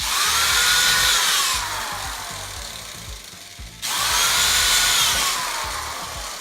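Two close bursts of a power drill whining through the wood of IKEA Lack shelves, each winding down before the next starts, with no talking.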